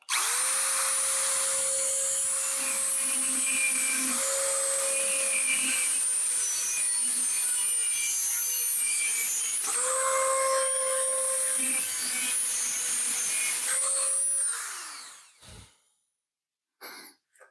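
A Dremel rotary tool cuts into fairly hard material with a loud, steady high whine that dips briefly in pitch a few times under load, then spins down and stops near the end, leaving a couple of faint knocks.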